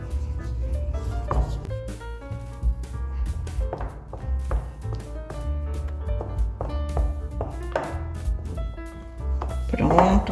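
Oat bread batter, gluten-free and lactose-free, is beaten by hand in a bowl, with a steady run of quick spoon taps and scrapes over tonal background music.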